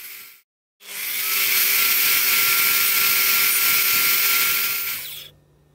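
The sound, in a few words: power saw blade cutting wood for a tenon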